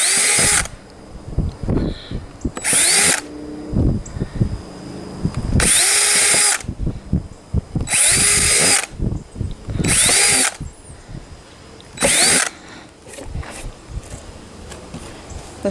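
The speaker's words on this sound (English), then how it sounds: "First, I'm gonna drill a series of holes in here" A power drill bores a series of holes side by side through a cricket watering container, running in about five loud, repeated bursts with short quiet handling gaps between them.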